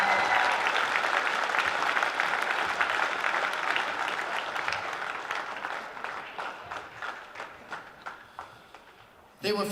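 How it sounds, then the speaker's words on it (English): A crowd in a basketball arena at a national secondary schools championship gives a big round of applause, loud and steady at first, then thinning into scattered claps before a brief burst at the end. "let's give them all another big round of applause"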